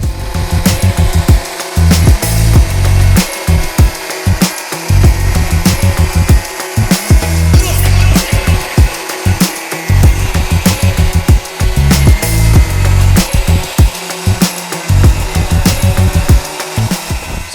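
A plastic bumper on a 2016-2023 Toyota Tacoma is cut near the fog lights with a power tool, giving a loud continuous rasping buzz with rapid choppy pulses throughout and no talk.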